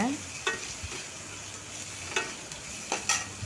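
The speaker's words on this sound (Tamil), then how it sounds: "பாருங்கள் வெங்காயம் நல்லா வதங்கி வருது" Onions and curry leaves sauté in a pan with a steady, close frying hiss, broken by a few sharp scrapes of a spoon stirring at irregular moments. No one speaks.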